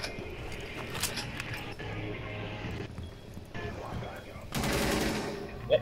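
Gunfire aimed at a decoy rattles along as steady, close bursts of repeated shots, with a louder, denser volley near the end and a voice faintly mixed in.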